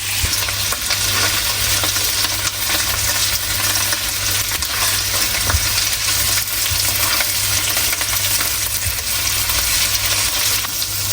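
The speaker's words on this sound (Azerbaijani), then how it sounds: "Belə qəşən-qəşən qızardırıq 2 tərəfli təreyağında" Chicken pieces frying in butter in a hot pan, turned to brown on both sides, giving a loud, dense, unbroken sizzle heard up close with no one talking.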